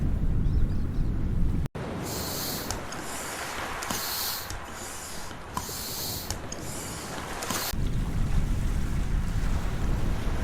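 In the video game Secret Files, a dinghy rides the open sea amid constant rushing wind and surf, with rhythmic swells of splashing water and a brief sharp knock near the start.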